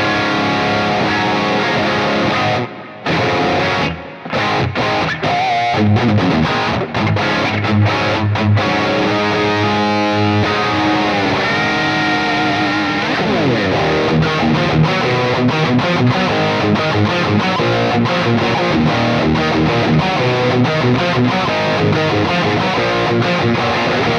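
Heavily distorted electric guitar plays rock riffs and chords through a Quad Cortex, drenched in echoing delay and reverb, loud and sustained with brief pauses early on.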